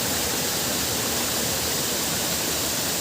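A waterfall in the Agency area of Andhra Pradesh roars as a dense, unbroken rush of falling water heard close up, steady and loud throughout with no voices.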